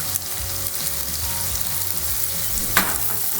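Potatoes for an egg and potato hash fry in a pan with a steady, close crackling sizzle and a few soft stirring knocks, no voices.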